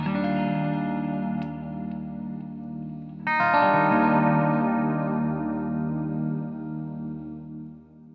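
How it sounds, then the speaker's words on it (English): Guitar chords ring through a Memory Man pedal on its chorus setting, giving a shimmering, slightly detuned wash. One sustained strum decays, then a fresh chord is struck and rings out, with no voices. "On the Memory Man bell epoch set to number 5, the Memory Man with chorus."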